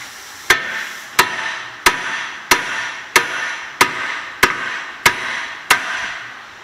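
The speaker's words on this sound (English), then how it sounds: "Hammer it off from there" Nine sharp metal hammer strikes on a Dodge Charger lower control arm land at a steady, unhurried pace, each ringing briefly before the next blow, close by.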